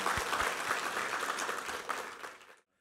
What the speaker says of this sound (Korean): 우리 하나님께 한번 감사와 영광의 박수 올려드리겠습니다